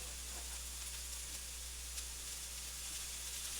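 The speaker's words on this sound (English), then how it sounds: "Now I'm going to toss in my garlic." Garlic sizzling in a pan with softened onions as it sautés, a faint, steady hiss with a low background hum.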